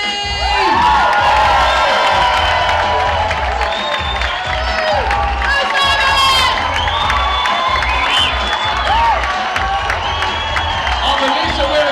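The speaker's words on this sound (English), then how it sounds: "would you please make some noise for Simon and Vicky!" Crowd at a hospice charity dance show cheering, whooping and applauding loudly throughout, with shouts rising over steady clapping and a host's voice briefly heard.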